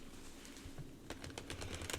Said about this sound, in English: I just rotate it and shuffle it like that